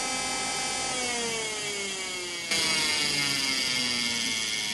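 A 12V bathroom exhaust fan runs with a steady tonal whir and a descending pitch sweep, then a slightly louder, rougher hum after a sudden shift halfway, with a faint rubbing scrape, close and alone.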